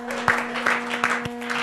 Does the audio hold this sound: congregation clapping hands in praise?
yes